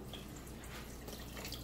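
Water poured into an emptied food can to rinse out the leftover contents while cooking chicken chili: a faint, steady trickling and dripping wash with no voices.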